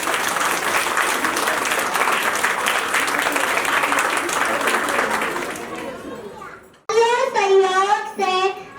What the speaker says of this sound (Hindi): ताली बजाइए बच्चों के लिए।